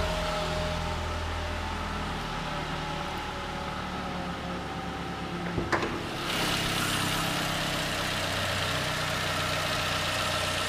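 The 2.5-liter four-cylinder engine of a 2012 Toyota Camry idles under an open hood with a steady, smooth hum and low rumble. A brief clunk comes midway, and the engine note stays even throughout.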